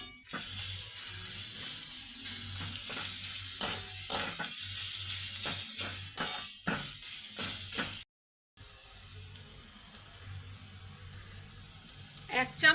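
Onions and garlic sizzle and hiss in a frying pan for boneless chicken curry, a steady close fry with scraping stir strokes, briefly cutting out before resuming.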